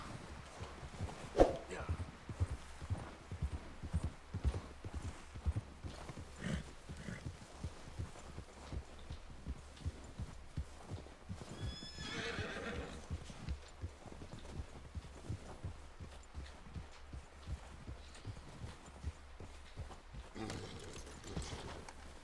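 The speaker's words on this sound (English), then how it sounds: "Horsey, what are you doing here, Horsey?" Horse hooves clop in a steady, rhythmic gait in Red Dead Redemption 2, with a short whinny about midway and game voices talking quietly around it.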